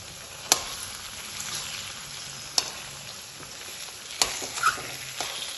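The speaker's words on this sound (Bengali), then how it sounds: "এবার আমি একটা চামচ দিয়ে হালকা করে একটু নেড়ে দেব" An egg fries in a pan for a potato-and-egg curry, giving a soft, steady sizzle while a spoon gently stirs and nudges it with a few sharp clicks against the pan, close and fairly quiet.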